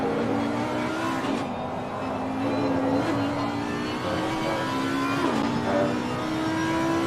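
A V10 race car engine from a sim racing game runs with a loud, continuous drone whose pitch rises and falls gently through several throttle changes.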